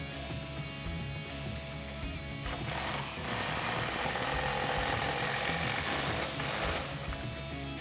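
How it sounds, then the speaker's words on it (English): An impact gun with an 18 mm socket runs on the factory nut of a 2015-2019 Dodge Challenger lowering-spring strut, giving a steady rattling buzz with a louder burst in the middle, close up and without speech. "Grab your 18 socket and gun it on"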